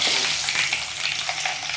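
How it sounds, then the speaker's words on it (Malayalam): Mustard seeds and curry leaves fry in hot oil for a mushroom pickle, giving a loud, continuous crackling sizzle with scattered pops, close up and with no voices. "കടുക് പൊട്ടി കറിവേപ്പില ഇട്ട് കൊടുത്തതിന് ശേഷം"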